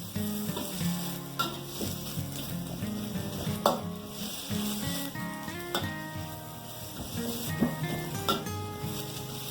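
Chopped onions frying over high heat in a pan for shrimp and pak choy rice, a steady loud sizzle with stirring scrapes and occasional clinks of utensil against pan.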